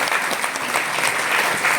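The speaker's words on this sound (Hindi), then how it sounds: "आपको थोड़ा ताली धीमी इसलिए बज रही है यार" Audience clapping at a sales meeting, a steady, fairly soft patter of many hands that continues without pause.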